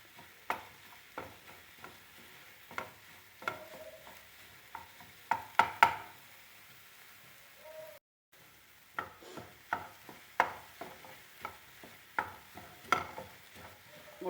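Eggs scrambled in a pan while making a dinner from leftover chapati, with repeated scraping and tapping strokes of a spatula, close and clear, a steady rhythm with a short pause near the middle and no talking.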